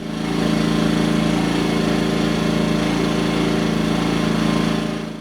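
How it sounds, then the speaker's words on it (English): A Predator 2000 portable generator runs on Eco mode at idle with no load, a loud, steady, close-up buzzing engine drone with a fast, even pulse throughout. "Right now, I've got the Predator running on Eco mode."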